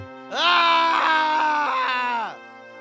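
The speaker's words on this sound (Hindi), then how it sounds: "मंगल की चीख ने सावित्री को जगा दिया" A cartoon character lets out a long, loud, anguished scream of about two seconds, rising and wavering before cutting off, alone without other voices.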